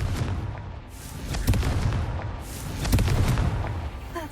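A Confringo fire spell explodes in the video game Hogwarts Legacy, a series of heavy booming blasts and crackling bursts, loud and close, with no talking over them.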